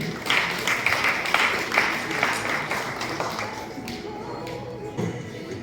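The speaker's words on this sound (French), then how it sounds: "Est-ce qu'on peut applaudir pour Samien?" Audience applause for a speaker at an awareness session on positive masculinity, a dense patter of many hands clapping that thins and fades over a few seconds.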